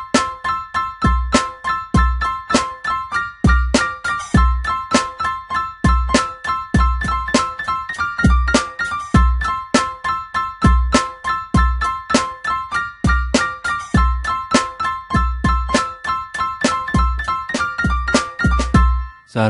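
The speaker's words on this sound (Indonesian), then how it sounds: "Contohnya di sini adalah rekaman piano yang belum di-quantize yang bunyinya seperti ini." Unquantized MIDI piano recording played back in Nuendo, a steady stream of bright piano notes and chords with a bass pulse, slightly uneven in timing, continuous and clean with no voices.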